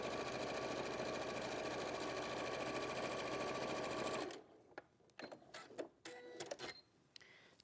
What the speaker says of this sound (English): So I'm gonna sew just only the side of trousers, and the right side together, and I sew